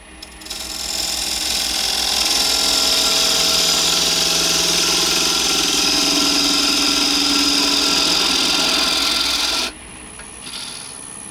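A wood lathe spins an olive ash cup while a tool scrapes away the tenon, a loud continuous rasping hiss that runs steadily for about nine seconds and then cuts off, leaving a quieter hum.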